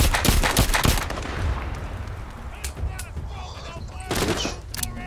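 Rapid bursts of gunfire from blind firing in The Walking Dead: Saints & Sinners, dense cracks clustered at the start and again near the end, with a speech-like voice under the shots.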